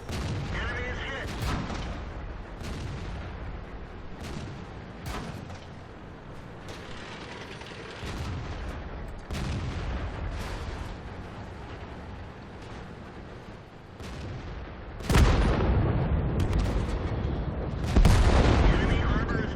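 Tank destroyer guns firing in World of Tanks gameplay, a series of loud sharp booms at irregular intervals over rumbling engine and battle noise, heaviest toward the end.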